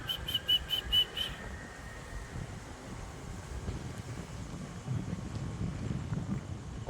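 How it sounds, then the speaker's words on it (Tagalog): Strong wind buffeting a microphone outdoors in the morning, a steady low rumbling roar that swells toward the end, preceded by a few faint whistle-like beeps. "Lakas ng hangin guys, oh."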